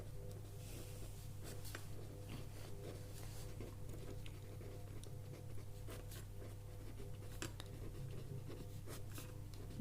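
A pen writes an equation on paper, a faint, steady scratching with small strokes running continuously under a constant low background hum, with no voices.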